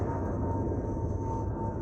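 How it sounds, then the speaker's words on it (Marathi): An airplane passes over a Konkan village, heard as a steady low drone that stays even and unbroken throughout. "विमान चाललेला आहे, किती जवळ आहे."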